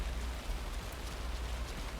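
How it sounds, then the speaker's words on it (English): Steady rain outside in Alan Wake 2, a soft even hiss with no distinct drops, faint and continuous with no voices. "Ma'am, it's raining outside."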